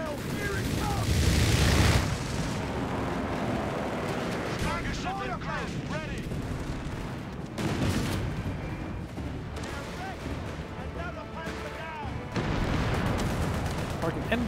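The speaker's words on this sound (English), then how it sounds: "You're getting a strafing run?" Aircraft strafing run in Company of Heroes 3 with the Afrika Korps: loud, dense bursts of gunfire and booming blasts roll through the whole stretch, with a heavy burst at the start and another near the end, under ongoing game noise.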